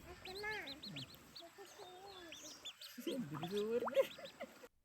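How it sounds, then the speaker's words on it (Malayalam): Six ducklings, one of them a Manila duckling and five ordinary ducklings, swim in water, giving soft, high peeps and quacks in quick runs, quiet and close, while a person talks over them. "അത്രയും എക്സ്പീരിയൻസ്ഡ് ആയിട്ടുള്ള താറാവുകൾ നീന്തുന്ന പോലെയാണ് അവർ നീന്തുന്നത്"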